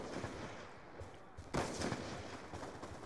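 Rapid gunfire from the Black Ops 2 video game, with dense bursts of shots and a heavy blast midway, set low in a noisy game mix.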